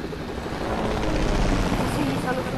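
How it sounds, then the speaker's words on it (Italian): A video game helicopter roars with a steady, loud rotor and engine drone that fills the whole stretch, with a player's voice talking over it. "Sì, mi salgo sull'elicottero."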